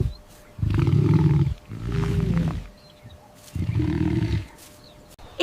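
A lion roars in three deep, rumbling bursts, each lasting about a second, separated by brief pauses, loud and close with no voices.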